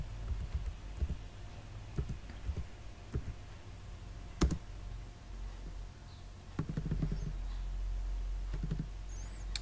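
Quiet computer mouse clicks while working in AutoCAD, scattered singly and in small clusters over a low steady room hum.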